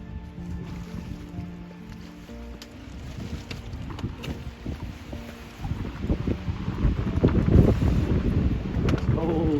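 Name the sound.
wind blowing on a pond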